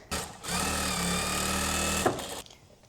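A sewing machine quilts the main fabric panel of a tote bag, running in one steady, close, loud burst of about two seconds with a brief clack as it stops.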